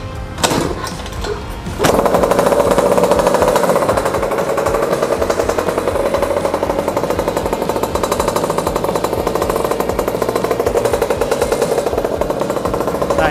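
Mini Trail MT6 50cc competition-style motorcycle engine cranks briefly, then fires and settles into a loud, rapid, buzzing idle that runs steadily and close by with no talk.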